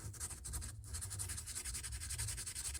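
Small pieces of 600 grit sandpaper rub over silver spinner rings, a faint, close, steady scratchy rasp of quick repeated strokes with no voices over it.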